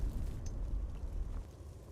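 An explosion in the fantasy role-playing game Enderal: Forgotten Stories, a deep booming rumble that bursts at the start and rolls on for about two seconds before fading.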